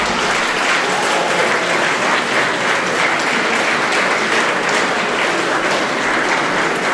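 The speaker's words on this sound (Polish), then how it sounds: "Wielkie, wielkie brawa dla wykonawcy." Sustained, dense applause from an audience after a school-leavers' polonaise dance performance, loud and steady throughout with no break.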